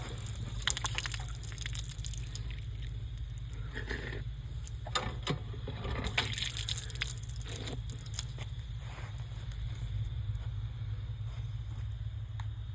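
A newly reinstalled hand pump on a farm during wheat sowing gushes water in uneven spurts and splashes. A low steady hum runs underneath, and no one speaks.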